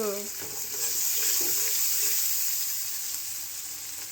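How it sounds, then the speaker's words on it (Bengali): Tomato sauce hisses and sizzles steadily in a hot pan for a chickpea and paneer curry, a close, even frying sound throughout. "আমি একটু টমেটো সস দিয়ে দিচ্ছি এতে।"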